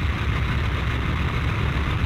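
Four piston engines of a Halifax bomber running and warming up on the ground, a steady loud drone with a low rumbling throb and no break.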